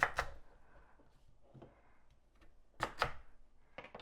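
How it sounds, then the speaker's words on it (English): Knife chops through raw sweet potatoes on a board, cutting them into large chunks: a few sharp, close cuts in two quick pairs separated by quieter pauses. "I'm going to cut my sweet potatoes into large chunks"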